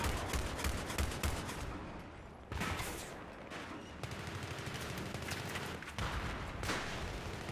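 Rapid automatic gunfire in Battlefield 3 crackles in dense bursts, with sharp repeated shots over a continuous battle roar and a couple of brief pauses between volleys.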